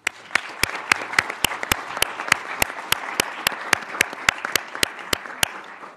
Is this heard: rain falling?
no